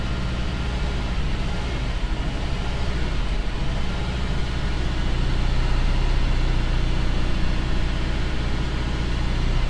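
Chevy truck engine idling after a carburetor accelerator pump, diaphragm spring and gasket repair: a steady, rumbling low idle heard close, even and continuous throughout.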